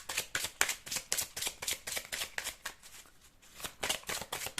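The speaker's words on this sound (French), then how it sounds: "Donc, on mélange les cartes." Lenormand cartomancy cards being shuffled by hand, a close run of quick riffling flutters in bursts with a brief pause midway, no talking.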